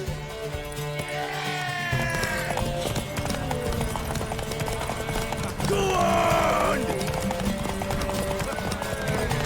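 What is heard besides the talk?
horse galloping in a video game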